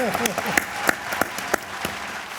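Scattered, sharp hand claps from a studio audience on the Bigg Boss Kannada stage, a handful of distinct claps spaced irregularly over a steady hum, with a voice briefly audible at the start.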